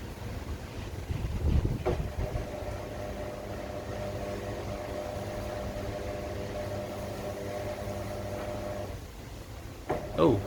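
A Fisher and Paykel Quicksmart washing machine, stripped for parts, with its drum beginning to turn: a steady low mechanical hum and hollow rumble running for several seconds after a brief thump, with a bump near the end.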